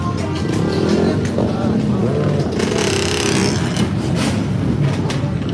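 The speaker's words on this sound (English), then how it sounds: "And one dude on an ATV." An ATV passing through a residential neighborhood, a loud steady engine drone under ongoing talk, swelling briefly in the middle as it goes by.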